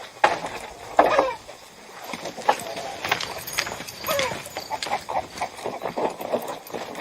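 Horse hooves clip-clop at a walk in an outdoor frontier setting, with irregular hoof knocks at moderate distance, partly under men's dialogue.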